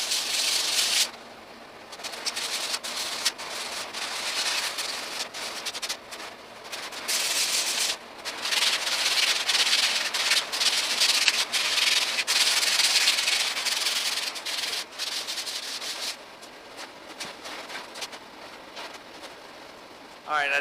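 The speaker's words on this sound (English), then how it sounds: "So basically all I'm doing right now is just a little bit of sanding" An antique dining room table being sanded gives off a steady, rough scraping hiss in repeated strokes, with brief pauses between passes. It is fairly close and continuous, with no talk over it.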